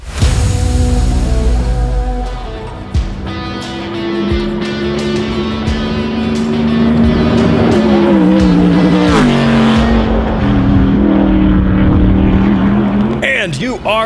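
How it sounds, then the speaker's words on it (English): Race car of a Pikes Peak hill climb driver, a loud engine roaring and revving with rising and falling pitch as it accelerates and shifts, close and continuous throughout. "Those car sounds you just heard were from Jimmy Ford, Pikes Peak hill climb driver."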